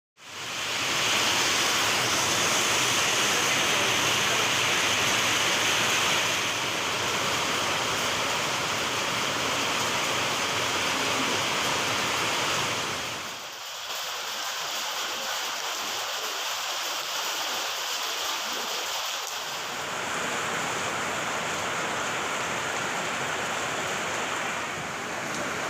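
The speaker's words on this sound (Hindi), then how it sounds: "चिखली तहसील में बारिश हुई है" Unseasonal December rain falls in Chikhli tehsil as a steady, dense hiss of downpour. The sound drops briefly to a quieter patch midway, then resumes at full strength, and no voices are heard.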